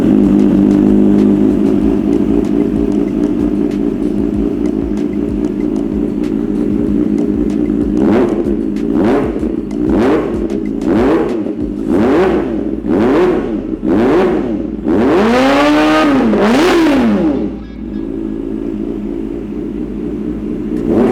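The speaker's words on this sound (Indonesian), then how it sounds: "Kita nyalain lah, supaya kalian bisa dengar suaranya kayak apa." Kawasaki ZX4RR motorcycle fitted with an aftermarket exhaust, idling loud and close before a series of about eight sharp throttle blips that climb to one long high rev near the end.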